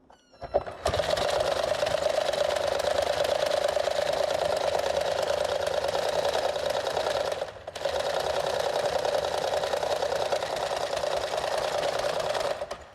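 A reassembled engine runs with a steady, even mechanical whir, cutting out briefly about halfway through before starting up again and running on.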